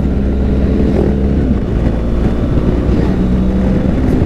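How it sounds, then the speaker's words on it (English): Triumph and Kawasaki motorcycles riding past on a road, their engines a low, steady rumble mixed with heavy wind buffeting on the microphone, continuous and fairly loud. "Some Triumphs, some Kawasaki's. Another one."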